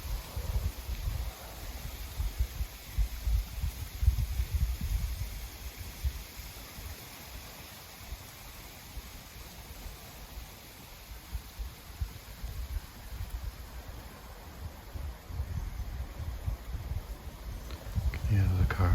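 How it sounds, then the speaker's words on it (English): Strong wind gusting through the Maine woods at dusk, a steady broadband roar with low rumbling buffets on the microphone, moderately loud and continuous. "It's too windy out."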